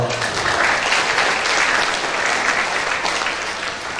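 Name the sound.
audience applause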